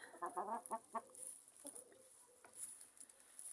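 Bielefelder hens clucking nearby in a winter farmyard, a quick burst of soft clucks early on, then scattered quieter clucks and light pecking or rustling sounds, fairly faint with no talking.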